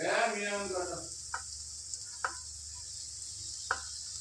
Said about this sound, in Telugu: దీంట్లో కట్ చేసి పెట్టుకున్న బీరకాయలు ఇందులో వేసుకున్నాం